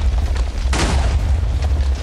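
A dynamite blast in Minecraft booms once as a short burst of rumble and crackle over a constant low background.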